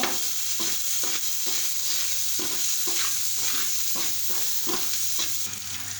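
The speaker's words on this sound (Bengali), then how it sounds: "তারপর আবার কিছুক্ষণ হচ্ছে তেলে ভাজবো" Green chilies fry in hot oil for a chili mash, giving a steady loud sizzle broken by regular scraping stir strokes throughout, with no talking.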